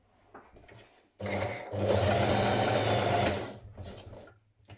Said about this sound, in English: we're going to stitch our front to our back bodice at the side seams